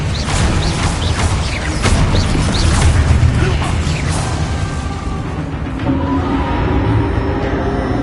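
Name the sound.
spells cast in Hogwarts Legacy video game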